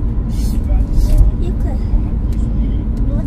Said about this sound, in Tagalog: Grabe traffic.